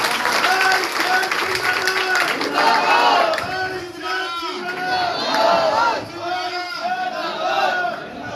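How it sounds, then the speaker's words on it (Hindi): A crowd at a Mihir Bhoj gathering in Kaithal greets a guest with applause and cheering and shouting, a loud massed roar with raised voices and a speaker's voice heard over it. "स्वागत करते हैं, तालियों के साथ स्वागत करते हैं।"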